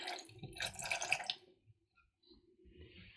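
Water emptied into a kitchen sink from a container holding a small blue crystal, a short splashing pour that fades out, followed by a few faint drips and trickles.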